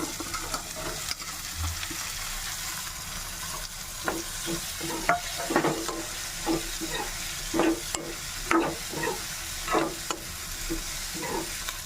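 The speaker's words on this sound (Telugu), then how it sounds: "ఇప్పుడు ఇవన్నీ వేసుకున్న తర్వాత క్యాప్సికమ్ వేసుకొని కలుపుకోవాలి" Capsicum frying in a pan with spices and turmeric, a steady soft sizzle broken by repeated scraping stirs of a spoon at irregular intervals, close and without talk.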